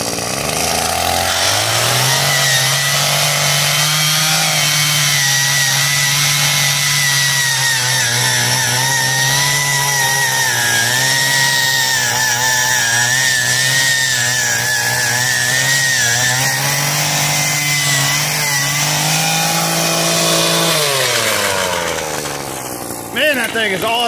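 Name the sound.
Harbor Freight Predator gas-powered earth auger digging soil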